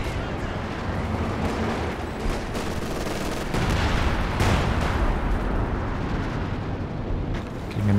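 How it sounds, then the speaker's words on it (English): A howitzer artillery barrage in Company of Heroes 2 booms again and again over dense rattling gunfire. The battle noise stays loud and continuous, with heavier blasts building toward the middle. "Getting another barrage going, this time onto Pervitin's base"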